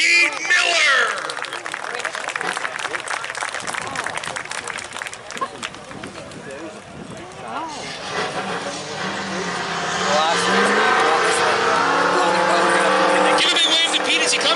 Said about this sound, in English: Give a big wave to Pete as he comes around turn 1 and 2.